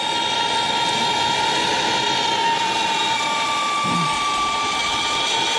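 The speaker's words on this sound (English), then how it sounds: "I got my torch going." A soldering torch roars steadily while heating metal to solder a ring, a loud, constant hissing rush that holds without a break from start to finish.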